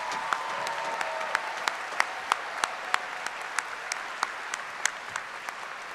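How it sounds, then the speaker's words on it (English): Applause for graduating nursing students at a university spring commencement ceremony, a steady rain of many hands clapping across the hall, fairly soft and distant, with a few sharper individual claps standing out. "let's give our graduates one final round of applause."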